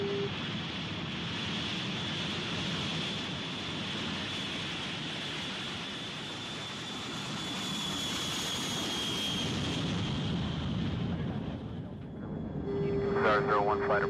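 A B-52 bomber's eight jet engines roar steadily during takeoff, a loud sustained rumble and hiss that swells slightly before easing, with a brief higher whine near the end.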